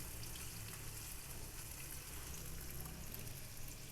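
Chicken Afghani kebabs fry in butter in a pan, giving a steady, loud, dense sizzle that runs unbroken throughout, with no talking.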